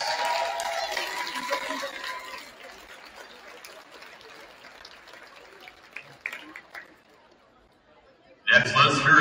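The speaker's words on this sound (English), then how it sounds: "let's have a round of applause for the Cynthia Heights Wildcats" Crowd applause and chatter in a gym at a high school women's basketball game for the Cynthia Heights Wildcats, loudest at first and then thinning into murmur before a voice cuts in at the end.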